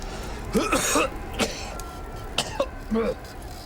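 A character in an Arctic survival game coughs and clears his throat during a storm, a few rough, separate bursts close to the microphone, with some voiced throat sounds between them.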